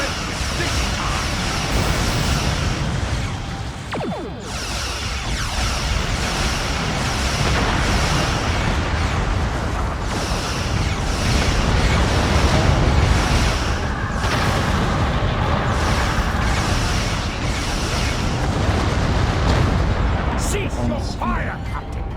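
Starship weapons fire and explosions in a Star Trek Online space battle, a dense, continuous barrage of booms and blasts with overlapping impacts throughout, loud and busy.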